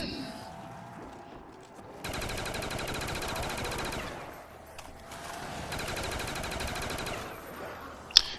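Sustained automatic gunfire in the Black Ops Zombies map Kin Der Toten, two long bursts of rapid, steady shots with a short pause between, loud and close, ending with a sharp click.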